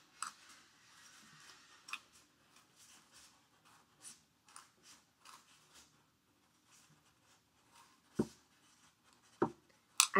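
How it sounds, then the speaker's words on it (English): A separator plug for a tube being cut out by hand, faint close scraping and snipping strokes in an irregular rhythm with quiet gaps, a few sharper clicks toward the end, no talking. "We're going to cut out our separator plug here."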